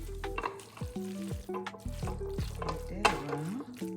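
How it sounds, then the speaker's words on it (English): Alfredo-coated spaghetti squelches and scrapes as it is spooned into a 9x13 baking dish, giving wet, sticky stirring sounds with small sizzle-like crackles, close up and fairly soft, with no talking. "Now I'm gonna get the spaghetti that I mixed up with the Alfredo sauce. We're gonna put that in there."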